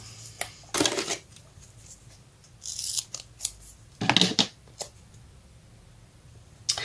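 Small scissors snip through sticky adhesive paper while a card is crafted, giving several crisp, close cutting bursts separated by quiet pauses, with no talk.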